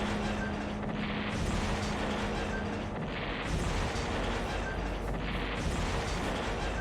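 Fighter bombers strike tanks in the strategy game Shadow Empire, a dense, continuous rumble of explosions and artillery-like booms rolling on steadily with no voices over it.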